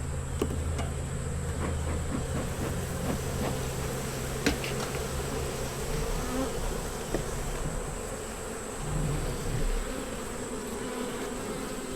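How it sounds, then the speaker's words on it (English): Agitated honey bees hum in a loud, close swarm while a hive is inspected late in the year, the drone rising and falling in pitch with several bees passing near and a few soft handling knocks. "Bees are starting to get a little excited."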